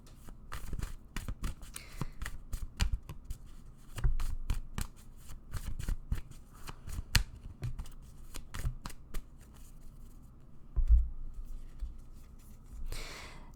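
Tarot cards are shuffled and drawn by hand in a quiet room, giving repeated crisp riffling and flicking bursts, close and moderately loud with no talking, ending in a louder rustle.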